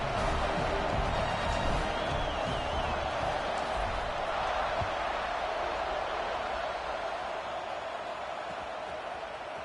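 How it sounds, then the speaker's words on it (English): Football stadium crowd at a Georgia vs. Oregon game buzzing after a score, a loud, steady roar of many voices that fills the whole stretch and eases slightly toward the end. "this crowd is buzzing after that last score"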